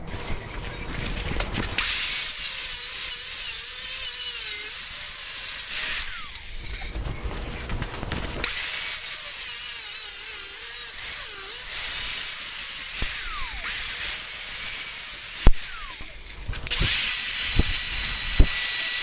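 Angle grinder cutting a metal piece at an angle, a loud continuous whining hiss in long passes broken by brief pauses, with a few sharp clanks near the end and no voices.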